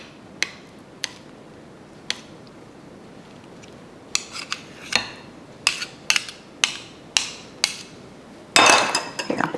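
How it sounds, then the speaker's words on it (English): A small spoon clinks and taps against the side of a bowl while mashing butter pieces, sharp isolated clicks that grow more frequent, ending in a louder scraping burst. "I feel like I can do it better with the small spoon because I like to just kind of mash those pieces of butter against the side to break them up"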